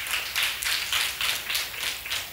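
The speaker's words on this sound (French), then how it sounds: "Sous vos applaudissements, s'il vous plaît." An audience claps at a professional coaching event as a guest is introduced, with crisp, rhythmic clapping at a steady pace and moderate loudness.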